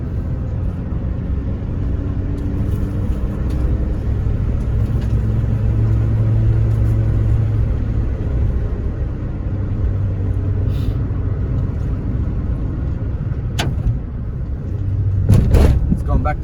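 A Citroen C2 drives uphill under load in third gear, heard from inside the car as a steady loud low engine rumble and road noise, with a couple of brief clicks near the end.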